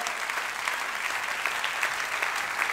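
A church congregation claps together in praise, a dense, steady wash of many hands at moderate loudness that fills the space evenly throughout.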